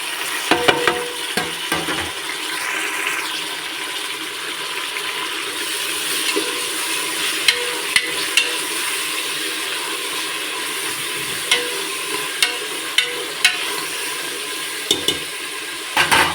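Tomatoes fry in a pan of carrot and meal maker curry, a loud continuous sizzle broken by repeated sharp clicks and scraping ratchet-like stirring sounds, with no talking.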